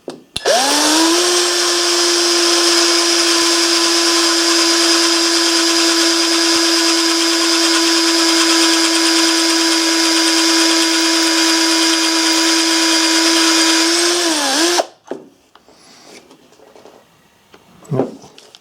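A power drill with a number 7 bit whines at a steady high pitch for about fifteen seconds, spinning up quickly and winding down, followed by a few faint clicks and handling sounds.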